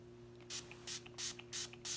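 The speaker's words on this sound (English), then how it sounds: "I'm just going to spray it with a little bit of the Urban Decay All Nighter" Five short bursts of fine spray hiss from Urban Decay All Nighter setting spray in a steady rhythm, close by and fairly quiet, over a faint electrical hum.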